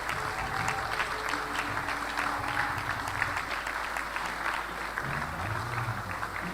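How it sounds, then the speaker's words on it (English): A standing audience applauds steadily at a medical graduands' induction ceremony, a moderate, continuous wash of clapping with faint voices and low hum underneath, lasting several seconds. "A round of applause while standing."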